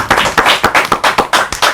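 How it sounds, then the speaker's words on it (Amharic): A close group of people claps steadily for children at a Meskel festival show, about eight sharp, evenly spaced claps in quick succession. "በደንብ አድርጋችሁ አጨብጭቡላቸው።"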